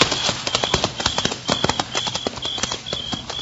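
Horse hooves clip-clop at a steady walking pace in an old-time Western radio drama, a brisk rhythmic series of sharp hoof strikes close by with no voices over them.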